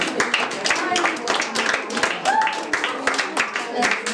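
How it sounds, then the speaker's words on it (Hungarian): Audience at a school carnival magic show in the Bárczi school in Veszprém claps for two children, a lively run of dense, close handclaps lasting several seconds. "Tapsuk a kettőjét."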